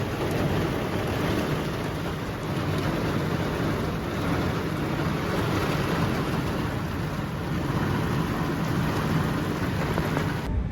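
Heavy rain and rolling thunder from an approaching storm sweep over an outdoor drag racing event, a dense, loud, unbroken roar of rainfall with low rumbles beneath it, no voices.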